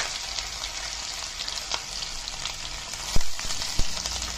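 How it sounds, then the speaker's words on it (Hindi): Onions, garlic and green chillies fry in a pan for a baingan bharta, giving a steady broad sizzle with a few sharper crackles and pops near the end, close and alone with no talk. "ये डाल दिए हैं प्याज, लहसुन और हरी मिर्च जो मैंने इसके अंदर डाली थी, तो इन सबको एक साथ पका लेते हैं।"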